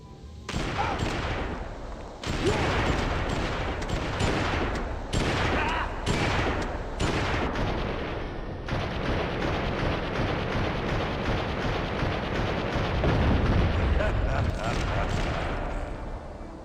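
Heavy gunfire in Red Dead Redemption keeps up for the whole stretch, with dense repeated shots and blasts that overlap into a loud, near barrage. A voice can be heard partly under the noise.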